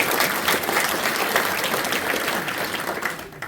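An audience applauds at a theatre troupe's performance, steady dense clapping from many hands filling the room at an even level before tapering slightly at the end.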